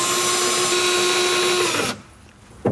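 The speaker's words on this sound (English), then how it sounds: "Drill it into position." A power drill whines steadily up close for about two seconds, drilling a stop into position while installing a corner organiser, then cuts off, leaving quiet room tone and a small knock.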